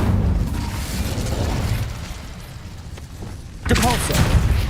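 Incendio fire spell cast in the Hogwarts Legacy video game: rumbling, crackling fiery bursts give way to a louder whooshing blast near the end, with a voice calling out over it.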